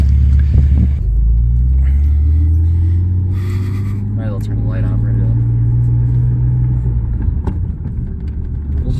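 A 250,000-mile BMW E36 M3 that had been sitting a while idles and pulls away, a deep, loud engine rumble close by under a short burst of talk.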